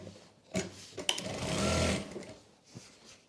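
Brief bursts of a sewing machine stitching a salwar strip, short close whirs separated by handling clicks and pauses, with no talk.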